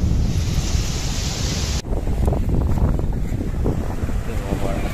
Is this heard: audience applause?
no